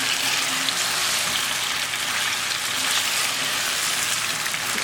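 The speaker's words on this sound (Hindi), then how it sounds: "अब आप इसके साथ इसको थोड़ी देर भून लीजिए" Chicken frying in a pan with garlic-ginger paste for chicken masala biryani, a steady close sizzle that crackles continuously without pause.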